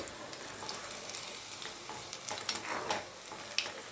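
Mutton kola urundai balls fry in hot oil, a quiet continuous bubbling sizzle with soft crackles and occasional stirring touches, close by and with no voices.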